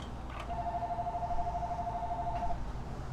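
A telephone rings in a locksmith's shop, a single steady electronic tone lasting about two seconds over a constant background hum, moderately loud.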